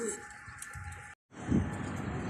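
Pigeons coo in a loft, soft repeated calls that break off for a brief silence before a louder, closer coo with rustling returns.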